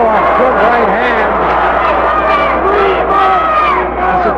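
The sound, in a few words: wrestling crowd yelling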